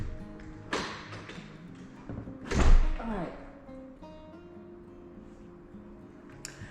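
The front door of an empty house swings open and shuts, giving a few taps and one heavy thud mid-clip, close and fairly loud, while a person speaks briefly.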